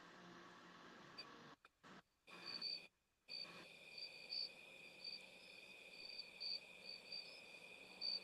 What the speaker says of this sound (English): I hear those mosquitoes or grasshoppers or something I hear.